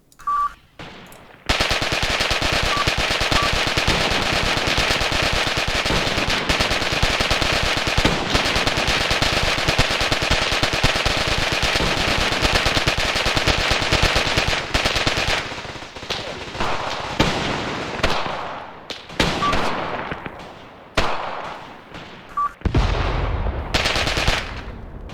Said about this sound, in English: That explosion, I believe, was from a rifle grenade or the 5cm mortar.